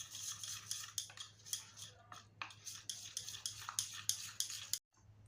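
A spoon scraping and stirring flour into melted butter in a pan to make a thick cream, a steady rhythmic clinking and scraping repeated about twice a second, close and quiet, ending abruptly.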